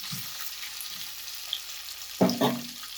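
Capsicum curry for a Gujarati-style dahi shaak sits covered in a pan over low heat, giving off a soft, steady sizzle with a couple of brief clinks or stirs near the end.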